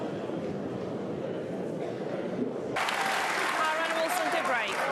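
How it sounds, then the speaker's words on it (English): A Crucible crowd at a World Snooker Championship semi-final breaks into applause, a broad wash of clapping from a large audience that swells partway through, heard under a commentator's voice. "Dave Gilbert got a good round of applause there from this Crucible crowd"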